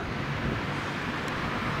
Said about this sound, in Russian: Пронзительный сырой ветер